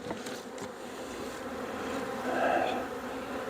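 Honey bees buzz inside a horizontal hive being cleaned after Formic Pro treatment, a continuous close, moderately loud drone that swells slightly toward the end.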